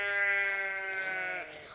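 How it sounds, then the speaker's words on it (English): A sheep bleating on a farm, one long wavering bleat, loud and close, fading out toward the end. "Sorry about the sheeps."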